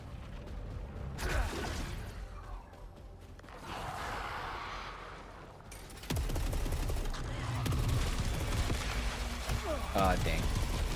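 Bursts of gunfire from a 15-round gun in the video game Saros, rapid shots and mechanical clatter over a busy game soundscape, with someone talking over part of it.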